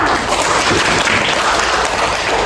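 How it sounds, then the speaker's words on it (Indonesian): Audience applause fills a classroom-style teaching simulation at a student competition, a dense steady clatter of many hands held at an even, fairly loud level throughout with no talking over it. "Sudah boleh tepuk tangannya."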